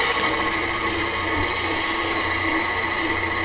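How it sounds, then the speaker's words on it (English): A KitchenAid stand mixer whirs steadily, beating brownie batter for mint brownies at a constant hum with a faint rhythmic churn throughout, close and continuous, with no voices. "I like KitchenAid because it really makes sure things get mixed up really well"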